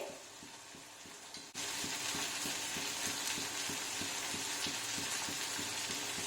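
Butter with red chilli powder in a ladle over heat starts sizzling abruptly and keeps up a steady, close, crackling fry until the end, with no talking.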